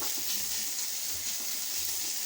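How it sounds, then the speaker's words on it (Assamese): Onions fry in a pan for a fish curry, giving a steady, soft broadband sizzle that runs evenly throughout at low level, with faint low clinks or stirring underneath and no talking. "পিঁয়াজ ফ্ৰাই কৰি আছোঁ।"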